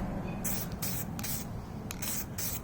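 A spray gun lays a light tack coat of paint on a Kawasaki ZX6-R in open air. Several bursts of hissing spray, each lasting about half a second, come one after another over a steady background.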